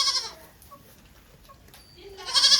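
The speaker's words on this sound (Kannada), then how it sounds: "ಕೋಳಿಗಳು, ಆಡುಗಳು, ಎತ್ತುಗಳು, ಆಕಳುಗಳು" Goats bleat in a village farmyard where chickens, oxen and cows are also kept, with one call at the start and another at the end around a quieter middle, close and fairly loud, no talking.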